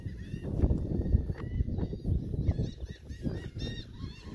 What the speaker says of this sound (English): I'm just going to let you guys out there listen to the seagulls.